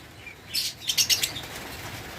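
Lovebirds with closed leg rings give a quick burst of sharp chirps and wing flaps close by, a brief flurry about a second long over a quiet background.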